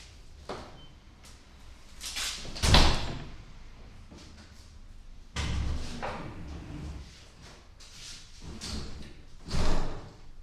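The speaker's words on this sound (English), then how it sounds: "Let's actually close all the doors" Several doors being shut one after another indoors, each close landing as a distinct thump or slam with quieter handling and creaks in between, fairly near and spaced out.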